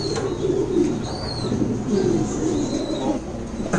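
Pigeons at a pigeon farm, soft repeated cooing close by over a low hum, with a few faint chirps.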